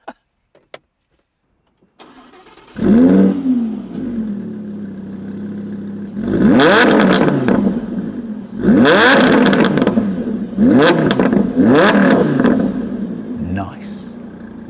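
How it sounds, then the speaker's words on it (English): A Lamborghini Huracán fires up with a loud start and settles into a steady idle, then its engine is blipped in several sharp, loud revs spaced a few seconds apart. "You just flip that up and press that button to start the car."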